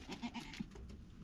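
Goats returning from the forest let out a short, faint burst of bleating in a rural village yard.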